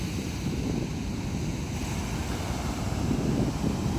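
Calm sea waves wash steadily at Pasetran Gondo Mayit white-sand beach in Blitar, a continuous low surf roar with wind noise over the microphone and no voices.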